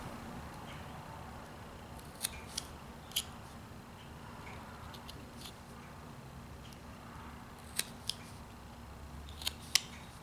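A carving tool cuts into a block of wood while shaping the ear of a character head, producing a few faint, sharp snips and clicks over a quiet background hiss.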